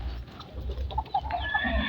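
Hens clucking at feeding time on a farm, a few short close clucks over a low background rumble in a brief burst.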